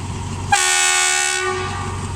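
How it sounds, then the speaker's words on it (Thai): An Alsthom diesel locomotive horn blasts once, loud and close, a sustained harsh tone lasting about a second over a low engine rumble. "เดี๋ยวมาฟังเสียงวีดกันนะ"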